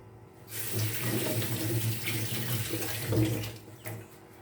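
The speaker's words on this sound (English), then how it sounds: "I was washing my hands." Tap water running steadily into a sink while hands are washed, a continuous close splashing rush that starts abruptly and stops near the end.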